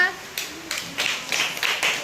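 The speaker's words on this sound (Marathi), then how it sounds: "टाळ्या वाजवा" Children clap hands during a classroom drawing lesson: a few sharp separate claps, then a quicker ragged cluster, fairly close in a quiet room.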